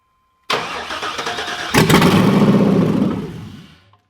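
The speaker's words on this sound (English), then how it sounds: "I'm going to hit the starter over and see if it'll start" An LS-swapped Chevy Square Body crew cab dually truck engine cranks briefly, then catches and runs with a loud, rough roar that holds for a couple of seconds before fading out.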